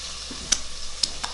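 Striper fish sticks fry in oil with a steady, faint sizzle, punctuated by a few sharp pops and crackles, with no talking.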